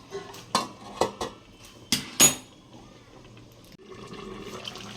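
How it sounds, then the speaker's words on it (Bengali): A metal lid clanks onto a pot of Malabar spinach cooked with fish head, several sharp close clatters in quick succession, followed by a quieter bubbling simmer. "এবার এটাকে আমি ঢেকে দেবো"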